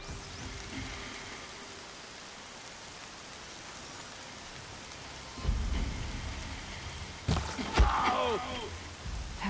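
Steady rainfall patters on surfaces outdoors in the sacred lands, with a low rumble of thunder swelling midway and a few sharper crackles and splashes near the end.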